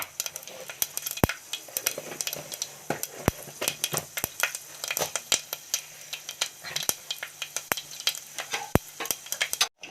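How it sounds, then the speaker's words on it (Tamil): Mustard seeds and fenugreek fry in hot oil for a spicy fish curry, popping and crackling in irregular bursts close up, with occasional clinks of a stirring spoon against the pan. "கொஞ்சம் வெந்தயம் சேர்த்து போட்டுக்கலாம் மீன் குழம்புக்கு வெந்தயம் போடணும் இப்போ அது நல்லா பொரியட்டும்"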